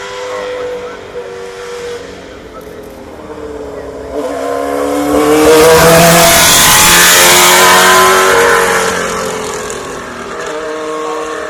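An Osella Formula One race car fitted with a V12 Alfa Romeo engine screams past on a demo run at a hillclimb, the engine note climbing and peaking loudly mid-pass before fading away, with no talk.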